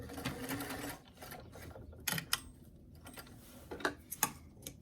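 Sewing machine running up a pant leg, a short motor run followed by soft ticking and clicking of the mechanism, close and fairly quiet with no voices.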